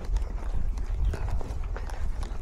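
A young mare trots in a riding arena, with rapid, rhythmic hoofbeats thudding steadily on the footing, close and clear, with no talk over them.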